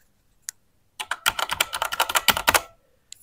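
Fast bursts of typing on a TKL mechanical keyboard with red switches, clicky keystrokes in a rapid close run after a single stray tap, alone with no talking.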